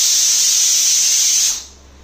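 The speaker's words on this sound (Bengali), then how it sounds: "2 নম্বর সিটিও উঠে গেছে, এবারে 3য় নম্বরেই আমি গ্যাসটা বন্ধ করে দেব।" A pressure cooker whistle hisses loudly and steadily on a gas stove while fish-head gourd curry cooks, a single long jet of steam that fades out near the end.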